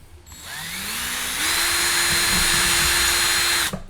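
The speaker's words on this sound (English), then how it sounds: "Let me get the screwdriver." A power screwdriver whirs up to speed and runs steadily for about three seconds, its motor pitch stepping up partway through before it stops abruptly. The sound is close and loud, with no talking over it.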